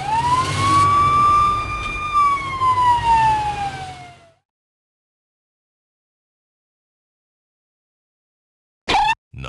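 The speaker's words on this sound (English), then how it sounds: "Yes, Fireman Splodge goes with the fire engine." Fire engine siren in a preschool matching video game: a single rising-then-falling wail over a low rumble for about four seconds, then silence, with a brief burst of another sound at the end.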